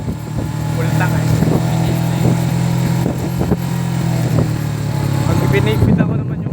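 A motorcycle engine hums steadily under engine braking, with clutch rattle and mechanical clicks close by, while people talk over it.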